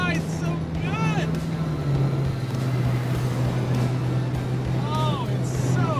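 An LS-swapped Jeep JK cruises down a road on a hot, muggy day, heard from inside the cabin as a steady, low engine drone with constant road rumble and occasional faint whistling tones.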